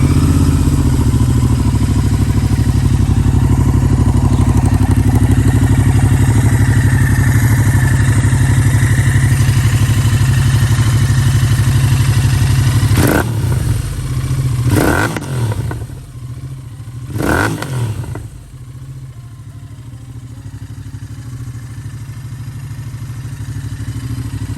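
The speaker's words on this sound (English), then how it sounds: "I'm gonna fire the bike up and we'll see if we can actually capture the true sound of this exhaust on the video" A 2021 Royal Enfield Interceptor 650 idles steadily close by with a deep, loud exhaust rumble, then gets two or three quick throttle blips before settling back to idle.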